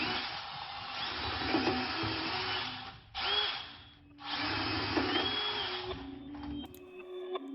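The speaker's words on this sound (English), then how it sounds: "I'm gonna just start again by drilling some holes in it" A power drill whirs loudly in two long runs with a brief pause between, then winds down to a stop, drilling holes in a BMW subframe.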